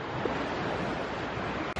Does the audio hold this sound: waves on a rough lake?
yes